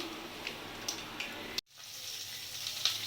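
Black cumin seeds sizzle in hot oil, a steady close frying hiss with a few small pops and a brief drop to near silence partway through.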